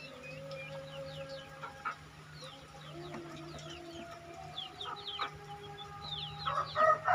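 Chickens cross-bred with Bangkok game fowl cluck and call intermittently around a coop, the calls fairly faint and spread through the clip over a low background hum.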